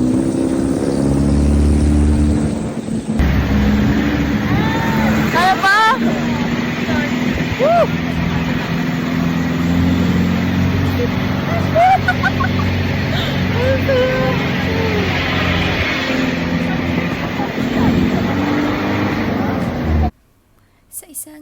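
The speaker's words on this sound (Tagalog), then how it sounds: "monster jeep nga sila sumakay" A monster jeep climbs a steep mountain road toward Mt. Pulag, its mid-pitched engine droning loud and steady throughout, with voices talking over it before it cuts off near the end.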